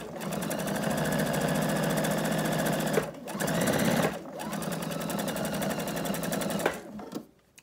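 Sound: sewing machine stitching denim strips for a quilt block

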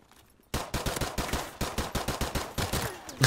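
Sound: pistol gunfire in a first-person shooter video game

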